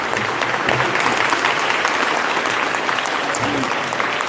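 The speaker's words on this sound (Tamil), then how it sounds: "இவருக்கு நல்ல கைத்தட்டல் கிடைக்கிறது." Audience applause fills a devotional kirtan gathering in Srivilliputhur, a steady, dense clatter of many hands clapping close by for several seconds.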